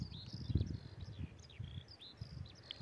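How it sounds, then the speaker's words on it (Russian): Birds sing in a backyard in France, faint chirps and short whistled phrases drifting from a distance over low rustling background noise. "А птички как красиво поют."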